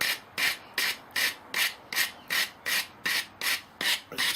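Sandpaper rubs back and forth on a wooden toggle drill spindle, about eleven even, rasping strokes at a steady brisk rhythm, close and clear with no talk.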